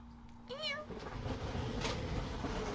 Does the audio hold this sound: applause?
no